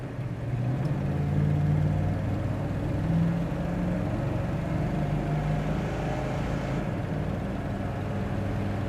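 A 1966 Pontiac GTO cruising with its engine droning steadily, the pitch rising and dropping as the automatic transmission shifts through gears, heard from inside the car without talk.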